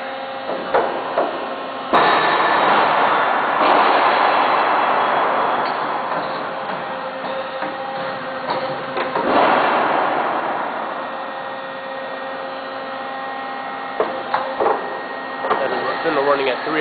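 An Okuma Howa Millac 80 machine tool runs with a steady mechanical hum and whine at moderate distance, broken by a few sharp knocks and surges as it changes load.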